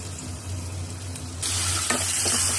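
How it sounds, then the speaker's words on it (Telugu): Tomato stirred into a hot frying pan for Rayalaseema-style uggani, a steady sizzle that suddenly grows louder and brighter partway through, with scraping stir strokes and no talking. "టమోటో వేసి కలపాలి."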